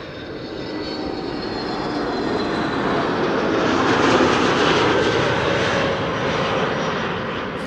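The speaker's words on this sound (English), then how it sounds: "This is an A321neo from Transavia, flight 5356, arriving from Faro." A Transavia Airbus A321neo arrives at Amsterdam Schiphol from Faro, its jet roar swelling gradually to a peak near the middle and then easing slightly, with a rushing, whining texture over a low rumble.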